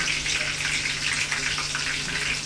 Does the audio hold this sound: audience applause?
no